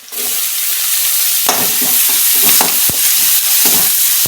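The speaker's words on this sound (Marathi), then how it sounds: "कांदा लाल झाला त्यामध्ये आता मी टोमॅटो टाकून घेते।" Tomatoes land in a pan of browned onions for a village-style okra fry, setting off a loud, continuous hiss of frying oil broken by scraping stirs, close up and without speech.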